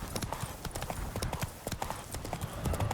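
A horse's hooves clip-clop steadily in The Witcher 3, close and busy, the irregular stepping continuing throughout with no talk.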